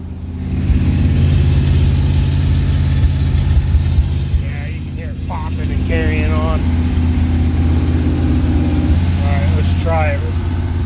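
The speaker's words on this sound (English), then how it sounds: "So it usually takes this thing a while to run on low idle until it gets warmed up." An engine in a shop runs on low idle while warming up, a steady close rumble throughout with a brief swell near the start, while a person talks over it.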